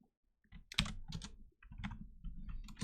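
Fingers type on a computer keyboard in quick, uneven bursts of clicky keystrokes, close and fairly quiet, separated by short pauses.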